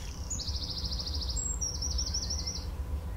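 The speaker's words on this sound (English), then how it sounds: "Little bird chirping away, singing his merry little song" A small bird chirps outside an open back door on a quiet day, giving two quick, high trilling phrases, faint and somewhat distant over a low steady background hum.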